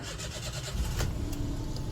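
A Toyota Aygo engine starts up with its fuse removed, a broad continuous car engine sound holding steady at moderate level through the short stretch, with no talking.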